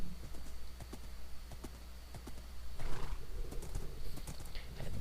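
Horse hooves clip-clop steadily in Minecraft, taken through the Nether, a quick rhythmic run of soft thuds with a brief whinny midway, all against a low ambient drone and no talking.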